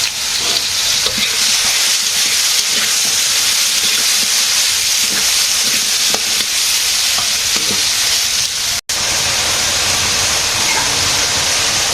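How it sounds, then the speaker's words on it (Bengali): Eggplant slices fry in a pan in a Bangladeshi village kitchen with a loud, constant sizzle and hiss. Light stirring clicks sit on top, and there is one brief dropout partway through. "আজকে বেগুন ভাজি আর একটা তরকারি রান্না করবো।"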